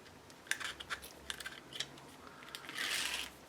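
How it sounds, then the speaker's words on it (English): Tissue tape backing peeled off grey board during mini album crafting, giving soft crackly rips and light ticks in short bursts, ending in a longer drawn-out peel. "So we'll just take off the tape backing."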